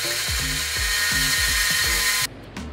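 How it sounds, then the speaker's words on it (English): 3D printed saw blade struggling through 1/4 inch pine: a loud, constant high whine with a rhythmic low thumping as the blade bogs, ending abruptly in quieter clatter. "So now we move on to the 1/4 inch pine and it's really struggling here."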